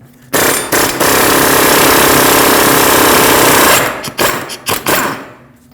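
A powered wrench with a 32mm 12-point socket rattles loudly and steadily for about three seconds removing a Lexus IS250 rear axle nut, then fires several short, sharp bursts with brief pauses between them.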